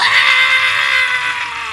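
A voice imitates the screeching Blood owl strain emote from WildStar, a loud, sustained, harsh screech that holds steady for nearly two seconds with no other sound.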